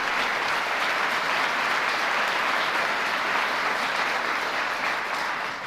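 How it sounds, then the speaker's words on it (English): Audience applause following a political speech at a robotics company in Auburn Hills, a dense, steady wash of clapping that stays loud and even throughout with no voices over it. "all of us will give a big round of applause"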